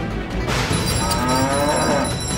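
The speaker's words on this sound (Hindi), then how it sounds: "तुम इतना क्यों रंभा रही हो?" A cow lows loudly and close by, a single drawn-out moo with a rising, wavering tone in a quiet domestic setting, heard alone without talk.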